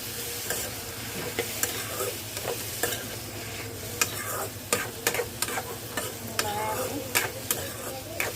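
Red lentils and red cabbage stems stirred in a pan, the spoon scraping in quick, regular strokes over a steady close sizzle throughout.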